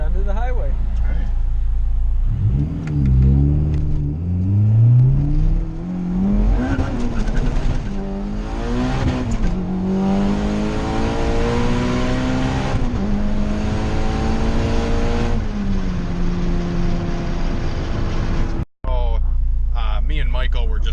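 A turbocharged Honda Integra GSR accelerates hard onto a highway, its engine note climbing through several gears with rising whines and brief dips between shifts, loud and close from inside the car, with people talking over it.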